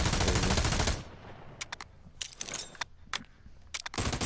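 Shooting in a video game opens with a loud, dense burst of automatic fire, followed by scattered sharp single shots and short bursts, then another heavy volley at the end.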